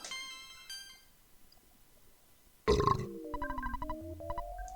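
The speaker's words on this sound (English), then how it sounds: "Burp." A cartoonish burp sound effect from the Earthbound video game, one loud gurgling belch that cuts sharply over soft chiptune beeps and is followed by descending electronic tones.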